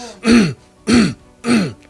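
Three throat clearings in a row, each a short rough rasp with brief pauses between them, close and clear.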